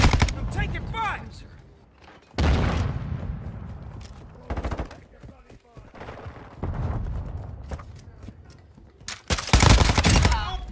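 Gunfire in Call of Duty Modern Warfare 2, loud sharp bursts of shots breaking out repeatedly across the stretch, mixed with game voice lines and effects between volleys.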